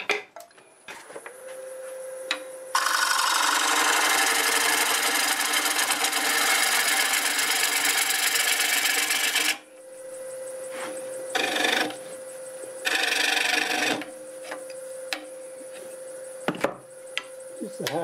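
A wood lathe turns a black locust bowl, a steady motor hum running beneath long and short bursts of harsh scraping as the cutting tool bites in and lifts away.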